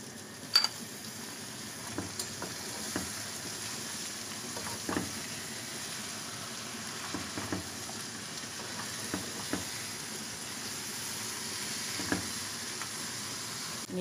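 Tomatoes frying in a pan for winter lentil soup, a quiet steady sizzle broken by scattered soft clicks and stirring taps.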